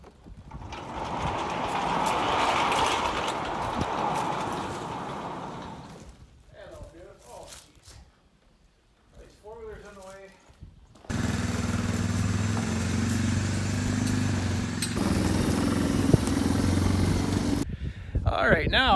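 A cold Massey 1150 tractor engine cranks in a few short, uneven bursts after some background noise, then catches and settles into a loud, steady, close rumbling idle.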